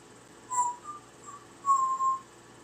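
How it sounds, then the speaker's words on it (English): Someone whistles Jingle Bells in a few short notes followed by longer held ones, fairly quiet against a calm background. "now he's trying to whistle Jingle Bells."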